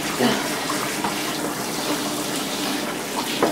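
Steady broadband hiss of water spraying continuously from a handheld shower wand in a bathtub while a cat is bathed, with a faint meow-like voice and small splashes mixed in.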